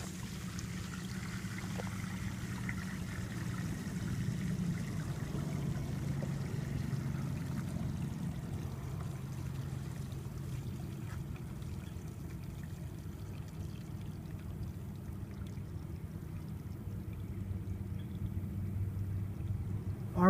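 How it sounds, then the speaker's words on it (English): Waste from an RV black water holding tank rushes out through an opened drain valve, a low continuous gushing pour that stays fairly quiet and steady throughout, with no talking. "I release this valve, it will then release all of the materials that are in that tank at a rushing flow push"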